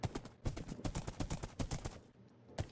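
Horse hooves clip-clop as a horse is ridden in the Minecraft video game, a quick, uneven run of sharp steps that continues throughout with brief pauses, fairly loud and close, with no voices.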